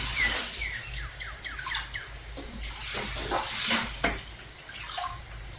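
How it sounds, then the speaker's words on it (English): Water poured to rinse sand off a gold-prospecting mat on a Lake Michigan beach, a steady splashing wash with small trickles and drips, close and fairly constant, with faint bird chirps in the background. "We'll wash all the sand down."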